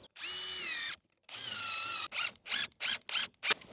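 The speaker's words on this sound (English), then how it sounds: "So I've got some trim and I'm going to screw it to the frame" A cordless power drill drives screws through trim into a wooden frame for a hoop house: two long whirring runs, then four short rapid bursts, close and clear with no talk.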